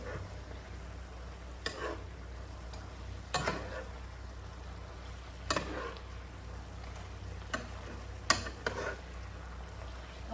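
Peppered steak sizzles quietly in a pan on lowered heat, with occasional sharp scrapes and taps of a utensil stirring it every second or two.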